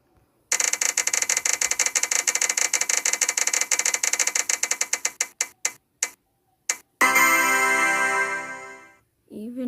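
An online prize wheel spinning: a rapid run of loud, sharp ticks that slow and spread apart until they stop, followed by a sustained chime-like tone.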